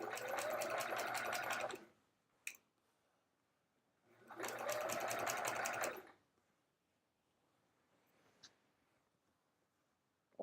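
Quilting machine stitching a hourglass-block quilt with metallic thread, two steady buzzing runs of about two seconds each separated by quiet pauses with faint handling clicks.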